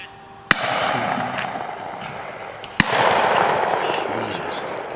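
Two sharp, loud shotgun blasts ring out about two seconds apart at a pheasant and partridge shoot, each followed by a rolling echo, with people talking nearby.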